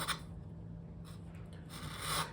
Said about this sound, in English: taking a chisel or a gouge, I guess you'd call it. And we just work our way down